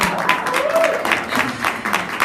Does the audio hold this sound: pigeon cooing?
no